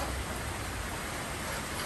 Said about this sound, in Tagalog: Umuulan na naman mga Mars.